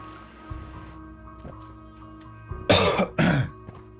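Two loud, close coughs in quick succession from a person playing the video game Noita, rising over a quieter bed of game sounds and faint clicks.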